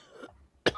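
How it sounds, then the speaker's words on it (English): A single short cough, close and fairly loud, comes after a faint murmur from a man with a head cold and ends in a sharp burst. "Yeah, it was a real cough."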